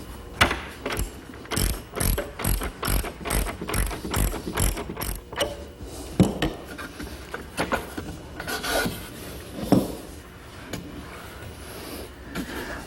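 A ratchet wrench clicks in quick repeated bursts as a locking nut is tightened onto a long carriage bolt with washers while building a wooden chaise lounge, the pawl rattling steadily and then slowing to a few scattered turns near the end.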